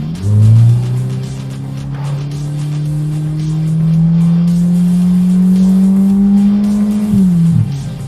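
Ferrari Roma Spider engine revs up and holds a loud, rising, sustained howl up close, then drops off sharply near the end with a brief blip, no voices over it.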